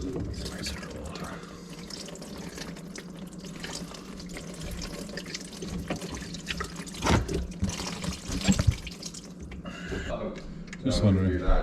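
Water splashes and pours out of a sink drain under a garbage disposal that was wrecked by an avocado, an uneven gushing and dripping close by, with someone talking over it.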